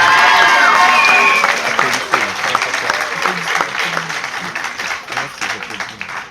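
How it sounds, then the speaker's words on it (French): A school concert audience applauds the students' parents, a loud dense burst of clapping that thins out over several seconds into scattered claps, with voices talking over it. "vous pouvez applaudir vos parents qui sont venus."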